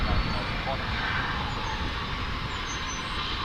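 A DC-10/MD-10 jet airliner at Dallas/Fort Worth International Airport, a loud steady engine roar filling the clip without letup, heard from nearby.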